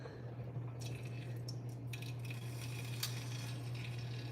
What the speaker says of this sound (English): I hear it sizzling.